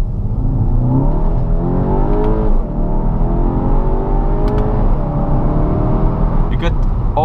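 A 2014 Skoda Octavia RS TSI with a DSG gearbox accelerates from inside the cabin, its engine drone rising and falling through the revs as someone talks over it throughout.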